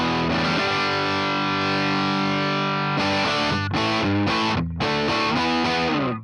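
Electric guitar through a Walrus Audio ACS1 MK II amp and cab simulator on a Blues Breaker cab setting, a distorted chord held for about three seconds, then a run of shorter strummed chords, loud and alone.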